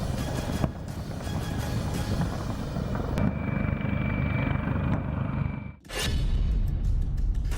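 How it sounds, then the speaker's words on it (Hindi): A Kamov Ka-52 attack helicopter flies overhead with a loud, steady rotor and engine roar that dips sharply for a moment before returning at full strength. "कमोव 52 एक अटैक हेलीकॉप्टर है।"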